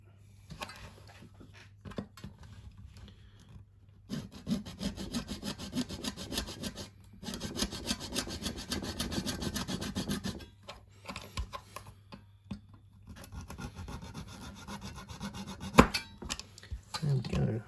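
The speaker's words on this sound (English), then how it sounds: "I'll cut it off first, file it down," Rhythmic back-and-forth strokes of a small saw cutting a plastic model airbox part, then scraping passes of a file shaping it down, close and fairly quiet with short pauses between bursts of strokes.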